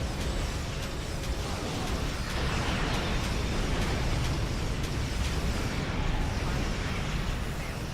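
Starship torpedoes firing and detonating in Star Trek Online, a steady wash of explosive rumble and bursts at moderate volume, with a faint voice in the mix.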